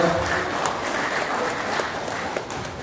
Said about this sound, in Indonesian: Tepuk tangan untuk Mas Pujianto